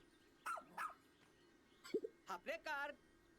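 A cartoon rescue pup in Pikmin 4 gives a handful of short, bright barks and yips after digging out a hole, in scattered bursts: two early, then a quicker cluster of four near the end, over a quiet game background.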